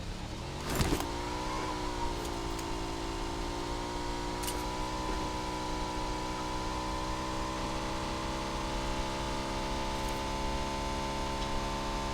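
A car driving in the video game PUBG gives off a steady, droning engine hum that holds an even pitch throughout, with a brief louder bump near the start and no talk over it.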